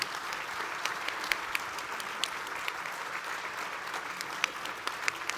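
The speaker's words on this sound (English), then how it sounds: "give a final applause to these two wonderful debaters" Audience applause for two debaters at the Steamboat Institute NSA Debate 2014, even and steady throughout, with sharp individual claps standing out over the crowd.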